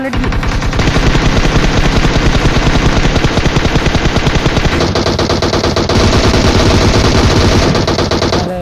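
Loud, sustained automatic gunfire in a mobile video game played on an iPad sprays in rapid bursts, close and continuous, with a brief shift in tone partway through.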